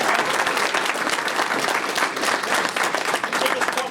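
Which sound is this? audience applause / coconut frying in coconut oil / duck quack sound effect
audience applause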